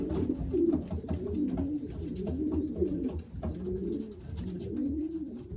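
A young racing pigeon coos in soft, repeated throaty phrases, close by and fairly steady, with no talking over it.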